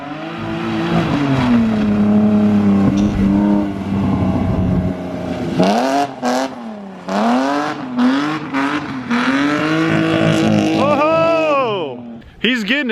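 A BMW E36 drift car with a welded diff, coilovers and stock steering angle drifts on a street, its engine roaring and revving up and down in long rising and falling sweeps, with excited voices shouting over it.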